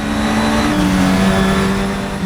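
Audi race car in the Assetto Corsa racing game, its engine holding a loud sustained high-revving drone with steady harmonic tones, close and continuous without talk.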